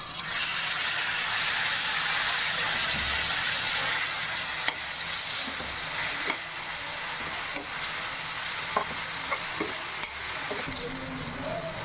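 Tomatoes and onions sauté in a pan for a mushroom kurma while being stirred, a steady loud sizzle with scraping stirs and a few sharp clinks of the spoon, no talking.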